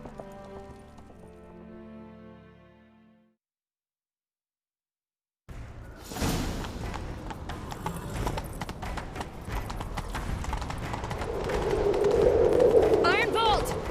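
Horse hooves gallop in The Witcher 3, a rapid, steady clip-clop that starts abruptly after a brief silence and grows louder, over game ambience with a faint whinny near the end.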